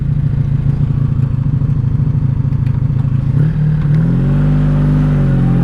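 A 1984 Honda motorcycle engine rumbles steadily at close range while riding, with a rapid clattering idle-like pulse that shifts midway into a smoother, rising drone after a gear change into first.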